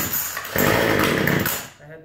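Lawnmower engine pull-started once, a brief rough roar of a small motor catching for about a second before dying back down, with faint voice-like sounds around it.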